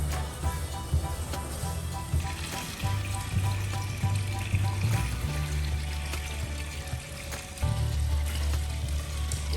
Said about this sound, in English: Dad brought out the hose and slowly filled the pool with water.